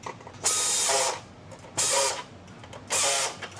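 Nuts being torqued down on a gauge assembly in an instrument factory shop: three separate, loud, mechanical ratcheting bursts of about half a second each, spaced by short pauses, close up with no talking.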